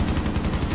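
Rapid automatic gunfire in Rainbow Six Siege, a short dense burst of repeated shots, loud and close with no talking.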